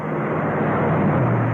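A 1961 Ford Thunderbird engine running, a loud, steady broadband roar with a low hum underneath, sustained throughout without talk.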